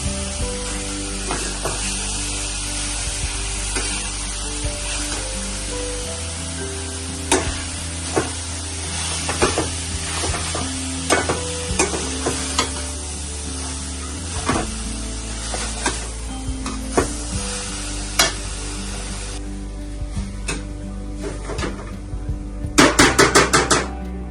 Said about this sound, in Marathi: गाजरला चांगलं भाजून घेऊया आता.